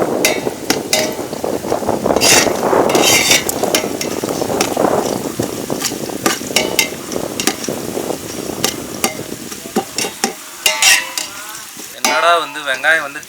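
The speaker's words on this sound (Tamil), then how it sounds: "வெங்காயம் வந்து நல்லா ப்ரௌன் கலரில் ஆகிற மாரி வந்து வதக்கணும்." Onions for Dindigul-style biryani sizzle and fry in a pan while being stirred, with frequent scraping and clinking strokes over a constant frying hiss.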